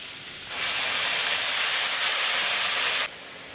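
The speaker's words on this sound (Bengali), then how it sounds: "এখন পেঁয়াজের ভিতরে পানি দিয়ে দিব যাতে পেঁয়াজটা পুড়ে না যায়" Water hits a pan of fried onions with a sudden loud hiss that holds steady for a few seconds, then cuts off abruptly, close and alone.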